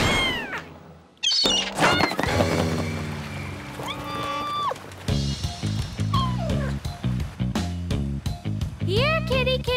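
A cartoon kitten meows in a PAW Patrol episode; a few short, rising and falling mews are heard amid lively background music and sound effects.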